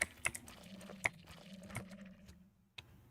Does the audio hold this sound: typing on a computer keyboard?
yes